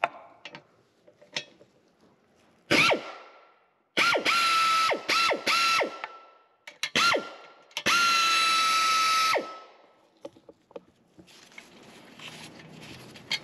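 A loud pneumatic air ratchet fires in several bursts of whining, rattling spin, with short pauses between, then quieter workshop clatter, during transmission removal on a 2003 Mercedes E320.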